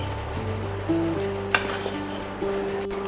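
Sorghum flour dosa batter being mixed with salt, with utensil scraping and clinking against a pot over a steady background hum and a few sharper knocks.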